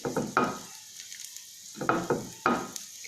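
Garlic and onion sautéing in a pan give a soft background sizzle, broken by several close scraping and stirring clatters of a utensil against the pan.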